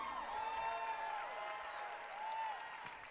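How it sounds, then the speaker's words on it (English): Audience applause at a Christian music showcase, a steady soft wash of clapping from the crowd, fairly distant and faint, with tonal ringing sounds layered over it. "Let's give her one more round of applause, please."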